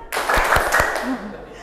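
A classroom of people joins a rhythmic clapping game, a few sharp, near, evenly spaced claps sounding together among voices over a brief burst.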